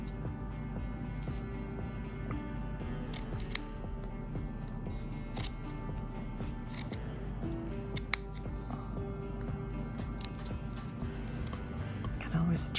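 Scissors snipping fabric just above a seam on a worn hoodie being mended, a few faint crisp cuts over soft handling noise and low background hum, with a quiet voice talking.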